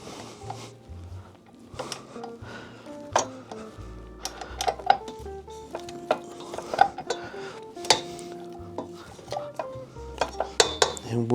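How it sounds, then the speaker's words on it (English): Gluten-free pizza dough being mixed in a mixing bowl, with a utensil clinking and scraping against the bowl in a steady run of sharp, close knocks and scrapes, and no talk. "Scrubbing everything off the bottom of your mixing bowl"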